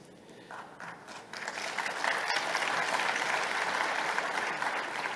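Applause from a large audience at a closing ceremony starts thin, swells after a second or two into a dense, sustained roar of clapping, and holds steady.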